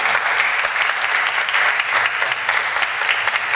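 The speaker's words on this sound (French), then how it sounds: "oui, on peut les applaudir." Congregation at a Sunday church service applauding, steady dense clapping from many hands filling the room without pause.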